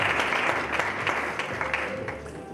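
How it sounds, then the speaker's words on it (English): Audience applause at a business panel discussion during a small-business roadshow, a steady spread of many hands clapping at moderate level, with scattered sharper claps throughout. "Can you please give them a round of applause?"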